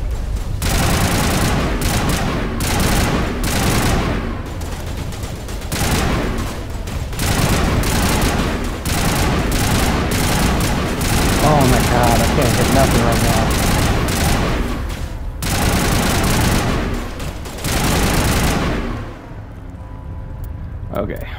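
Dense, sustained automatic gunfire from the sci-fi shooter Mass Effect, with loud rapid bursts of shots from weapons using tungsten rounds, running almost continuously for about twenty seconds before easing near the end.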